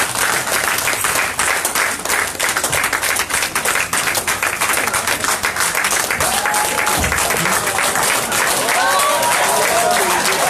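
A Yoruba Christian congregation keeps up vigorous applause throughout a Sunday church service, a thick continuous clatter of many hands with voices murmuring underneath.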